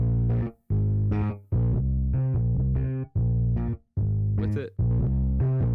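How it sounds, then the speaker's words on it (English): Bass line driven through parallel Decapitator distortion on punish mode, growling and saturated, playing a string of sustained notes that each cut off sharply before the next starts, loud and up front. "Just sent it in parallel to this decapitator on the punish mode"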